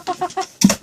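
Chickens on a Minnesota farm cluck in a quick run of close, short calls, followed by a louder squawk, with no talking.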